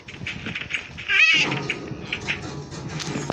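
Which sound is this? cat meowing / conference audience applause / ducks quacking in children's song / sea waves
cat meowing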